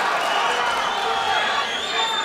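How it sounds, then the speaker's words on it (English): A large arena crowd at a featherweight tournament fight roars and cheers continuously, a dense wash of voices with no pauses. "You can hear cheering for both fighters from different parts of the arena"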